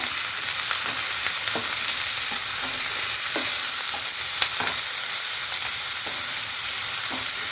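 Tomato chutney with salt and turmeric is stirred in a sizzling pan, a spoon scraping in irregular strokes over a steady close frying hiss.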